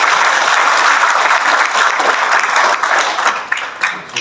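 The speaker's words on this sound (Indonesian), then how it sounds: "Kita beri tepuk tangan" Sustained audience applause fills a school workshop for teachers and students, a dense, steady clatter of many hands that holds loud throughout before thinning slightly toward the end.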